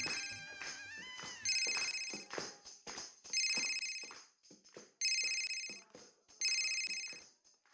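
A telephone rings in repeated bright electronic bursts, each loud ring pulse followed by a short gap, clear and close with no talk over it.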